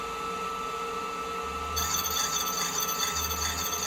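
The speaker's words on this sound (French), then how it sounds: "quand j'appuie sur ma pédale, j'ai ma meule qui tourne et j'ai ma pièce qui tourne aussi." Foot-pedal-driven grinding wheel turning against a spinning watch part to cut Côtes de Genève decoration, a steady fine whirring hiss that turns brighter and rougher partway through as contact is made, close and moderately quiet.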